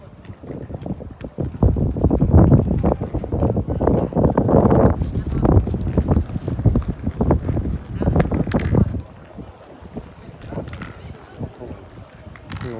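Strong wind buffets the microphone at an outdoor petanque court during a youth under-17 tournament, roaring loudly in gusts for most of the time before easing, with voices faintly underneath.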